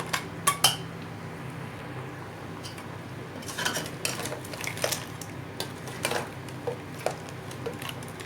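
Crab curry stirred in a pot of simmering gravy over a medium flame in a Kerala-style kitchen, heard as scattered spoon clinks and scrapes against the pot over a low background hiss, without talk.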